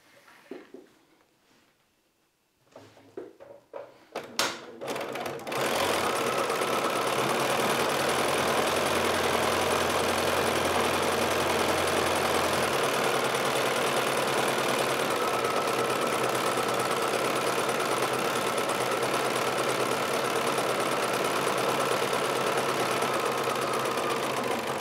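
A sewing machine stitches an appliqué inner ring onto a quilt background, starting after a few short bursts and then running in a long, steady, close mechanical whir.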